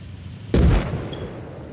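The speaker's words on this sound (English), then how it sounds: "That was a mine." A landmine detonates in Arma Reforger, a single sudden loud blast that rolls off into a decaying rumble, with no voices present.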